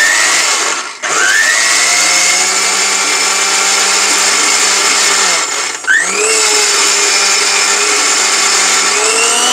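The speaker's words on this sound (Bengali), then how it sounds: "দেখেন আপনারা পানি দেন, যাই কিছু করেন এই ব্লেন্ডারে" An electric blender grinds turmeric powder with water in a loud, steady whine close by, with two brief dips in pitch as the motor strains and recovers.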